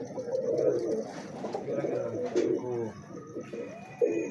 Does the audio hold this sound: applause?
no